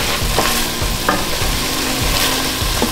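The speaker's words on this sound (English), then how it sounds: "We're waiting for the meat to turn a grayish color to indicate it's cooked." Ground meat frying in a pan for Bolognese sauce, stirred throughout, with a steady close sizzle broken by repeated scraping strokes of the spoon.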